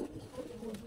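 A pigeon coos once or twice in a soft, low, rolling murmur, close but faint, heard alone with no talk.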